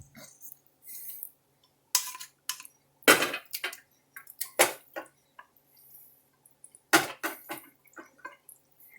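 A squash mixture is poured and spooned into a greased baking pan, giving soft wet plops and scattered clinks of a utensil against the pan in close, irregular bursts with quiet gaps.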